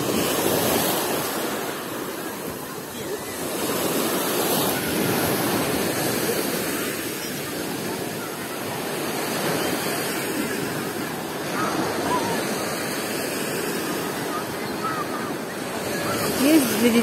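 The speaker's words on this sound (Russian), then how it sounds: "Волны. Море теплое." Steady wash of Sea of Azov waves breaking on a beach at Golubitskaya, continuous surf with gentle swells and some wind noise, no voices.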